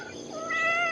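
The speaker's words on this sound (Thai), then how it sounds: "เหมียวใครนี่" A cat on a morning in Pong Chai, Chae Hom, Lampang, lets out a single drawn-out meow, close and clear, rising in strength partway through and holding steady to the end.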